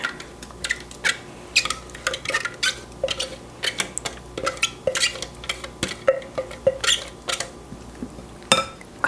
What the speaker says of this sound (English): kind of fold that through, stir that in